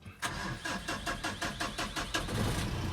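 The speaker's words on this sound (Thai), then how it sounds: "เดี๋ยว สตาร์ทเครื่องให้ฟังดีกว่า" A Titon 2.5 4x4 pickup truck with a manual gearbox cranks over in a rapid, rhythmic series of starter pulses, then its engine catches and settles into a loud, steady idle close to the microphone.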